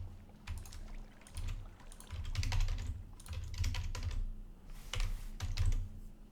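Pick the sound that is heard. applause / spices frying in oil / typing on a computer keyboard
typing on a computer keyboard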